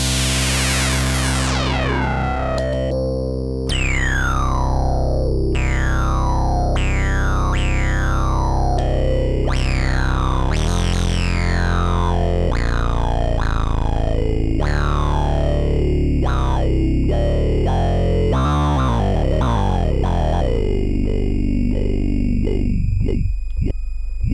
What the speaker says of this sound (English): We can make the Minimoog talk.